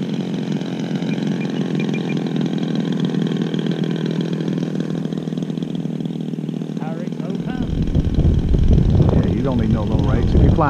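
A small DLE55 gas engine on a large 89-inch Hanger 9 Extra model airplane drones steadily at idle, a buzzy continuous hum, with people talking over it toward the end.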